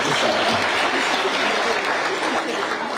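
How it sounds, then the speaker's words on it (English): A conference audience applauds for a speaker, a dense, even wash of clapping held for the full few seconds with a faint crowd murmur underneath. "another round of applause for Mr. Atadopiti"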